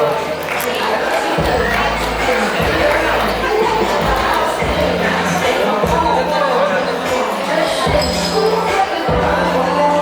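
Wedding guests in Coacoyula, Guerrero cheer and applaud for Luis, a dense, continuous crowd roar with shouts, laid over a steady low rhythmic backing throughout.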